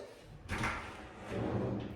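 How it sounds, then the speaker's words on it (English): Drawers of a new two-drawer soft-close vanity unit in a bathroom slide shut, giving two muffled rolling glides with cushioned, thud-free stops, close by and without talking. "we've got a new nice 2-drawer vanity unit, all cushion closed"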